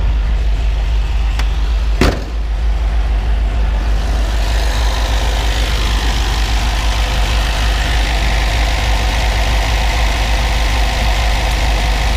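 1966 Sunbeam Alpine Series V engine with a Weber two-barrel downdraft carburetor idling steadily and close by, a continuous low rumble after a brief knock near the start, with no talking.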